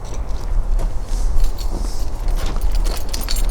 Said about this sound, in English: Dropped keys onto car straight away.